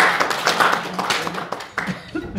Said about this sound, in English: please welcome our brother with a round of applause